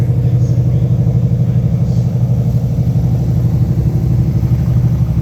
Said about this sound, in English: cool look into the cockpit there while the car is running. I'm sure you can hear, you also hear other cars